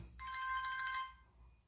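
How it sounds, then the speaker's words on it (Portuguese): A P8 Pro smartwatch sounds an incoming-call ringtone as one bright, close electronic chime with a bell-like tone. It holds for about a second and then fades, with no speech over it. "E recebendo chamadas, você pode escolher o toque."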